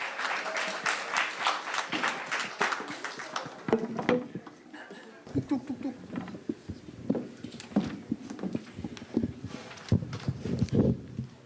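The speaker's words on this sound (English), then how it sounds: "Please give Jules a very welcoming round of applause" An audience at a cultural conference claps warmly to welcome a performer, a dense burst of applause over the first few seconds that fades as a person begins talking, with scattered handling noises.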